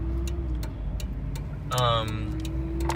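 A 1990 Acura Integra LS rolls along at low speed with a steady, subdued engine hum and road noise, close and continuous, with a brief louder swell partway through.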